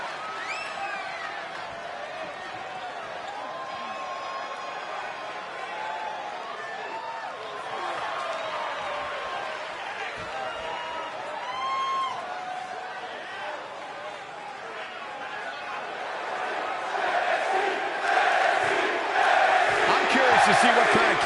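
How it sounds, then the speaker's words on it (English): A video game wrestling arena crowd cheering and roaring steadily under a commentator's voice, swelling louder toward the end. "Listen to this crowd"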